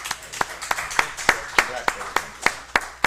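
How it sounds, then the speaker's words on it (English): A small audience at a candidate forum gives a slow, sparse round of claps, a few hands striking in a loose regular rhythm with speech faintly underneath. "let's give him a round of applause"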